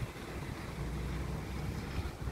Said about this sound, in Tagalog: Oh, lakas pa rin ang hangin oh.